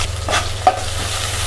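Green chillies, curry leaves and sliced onions fry in hot oil for a Telugu tomato-egg curry, a short burst of sizzling with a scrape of stirring close up.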